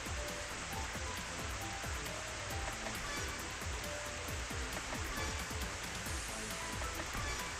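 Steady, dense video game rain effect patters continuously, a soft even hiss with scattered drops, fairly quiet and without any voices.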